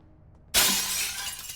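Glass shatters in Receiver 2 after a gunshot: a sudden loud burst of breaking glass that cuts in and keeps crunching and tinkling brightly until it ends.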